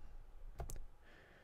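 Computer mouse clicks while working in Google Analytics, two sharp, close clicks in quick succession against a quiet room background.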